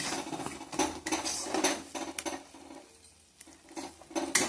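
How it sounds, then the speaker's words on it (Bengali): A spatula scrapes and clatters against a pan as spice paste fries gently over low heat, with repeated metallic strokes and a soft background sizzle, close and fairly loud, with no talking. "মশলাটা একদম লো ফ্লেমে ভাজতে হবে। যতক্ষণ না তেল বেরোবে ততক্ষণ নাড়িয়ে দিতে হবে।"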